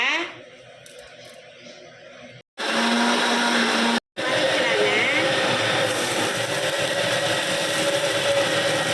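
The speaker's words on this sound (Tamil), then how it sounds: "பெருஞ்சீரகம் எல்லாத்தையும் போட்டு அரைக்கணும்" A mixer grinder whirs loudly and steadily as it grinds fennel, ginger and spices for thavala adai batter. A quieter stretch comes first, then the motor surges to full power, with two brief cut-outs before it settles into a continuous roar.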